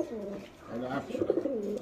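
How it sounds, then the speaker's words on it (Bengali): A pair of white racer pigeons coo softly up close in a short burst of throaty, wavering calls at a pigeon market, with a little background murmur. "এখানে এক জোড়া হোয়াইট রেসার কবুতর"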